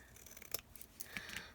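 Scissors trim a strip of paper in a few faint, quick snips, close and quiet with nothing else around.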